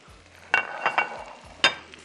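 Mutton being browned in a pot with masala: soft sizzling under a few clattering spoon strokes against the metal, two sharper scrapes standing out, close and fairly quiet, with no talk.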